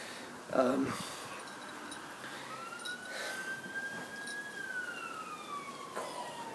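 Emergency vehicle sirens outdoors, a distant wailing tone slowly rising and falling over several seconds, faint beneath a brief burst of speech near the start.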